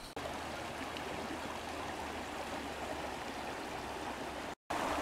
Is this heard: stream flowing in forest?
yes